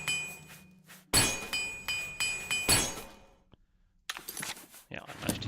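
A repair hammer striking metal gear in the fantasy role-playing game Oblivion, with a few loud ringing metallic clanks and thunks spaced apart, each one fading out, and quieter clinks near the end.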